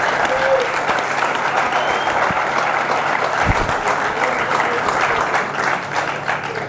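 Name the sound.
audience applause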